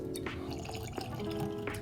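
Booker's bourbon, Jimmy's Batch, poured into a glass, a steady liquid trickle with small drips over a background hum, close by.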